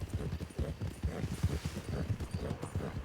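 Galloping horse hooves in the Goldrush RP video game as the horse chases players, a fast, even rhythm of close, heavy hoofbeats that holds steady throughout.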